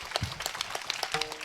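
A kirtan audience claps briefly and fairly faintly, a short scatter of sharp hand claps at uneven spacing.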